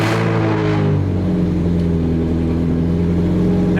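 Cold start of a Ferrari 348 Spider: a loud, close burst of engine revving that quickly settles into a steady, rumbling high idle, heard alone in an enclosed garage.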